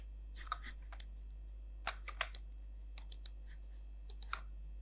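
Computer keyboard presses and mouse clicks while working in Maya software, sparse light taps spaced irregularly over a quiet low hum.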